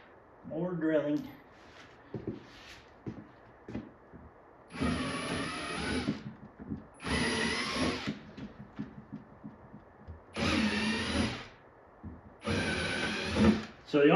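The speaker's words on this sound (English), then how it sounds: "More drilling." A power drill whirs in four bursts of a couple of seconds each, working on parts for an arcade cabinet restoration, loud and close with short quiet pauses between bursts, after a brief moment of spoken comment.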